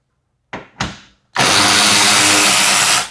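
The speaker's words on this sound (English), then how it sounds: "We have 4 10mm bolts across this front side that we need to remove." A handheld power tool works on the 10mm bolts holding the front skid plate of a Ford Bronco Sport Badlands. Two short bursts come first, then one long, loud, steady whir close by, with no talk.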